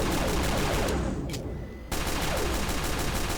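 Rapid pistol gunfire in Team Fortress 2 rattles in dense, loud bursts of overlapping shots. A brief lull comes around the middle before the shooting resumes just as heavily, with no voices.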